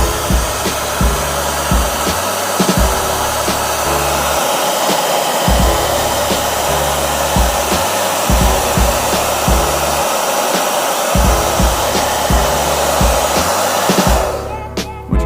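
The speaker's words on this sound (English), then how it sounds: "Okay, so I've got the hairdryer." A hair dryer blows hot air onto colour-changing football boots, its loud steady whoosh running continuously with a rhythmic pulsing hum underneath before switching off near the end.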